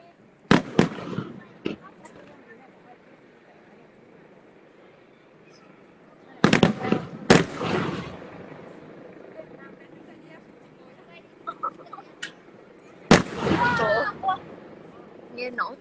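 Fireworks bursting in three separate volleys, each a sharp loud crack followed by crackling and sizzling that fades, with quieter stretches between them and people talking faintly in the background.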